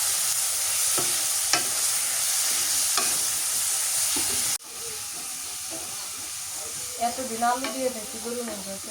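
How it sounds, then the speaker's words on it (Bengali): Ground spice paste of salt, turmeric, chili, ginger-garlic and cumin frying in hot oil gives a loud, steady close sizzle with a few stirring knocks; the hiss drops suddenly and continues softer, with bubbling and a faint voice. "নুন হলদি মরিচ আদা রসুন বাটা জিরা বাটা সবগুলো একসাথে দিয়ে দিই এটা তেলের মধ্যে"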